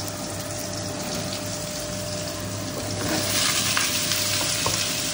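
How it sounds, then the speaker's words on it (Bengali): Pumpkin and potato frying in oil with panch phoron and bay leaf, a steady close sizzle that swells louder midway, with light stirring scrapes and no talking. "একটু ভেজে নিই কুমড়ো"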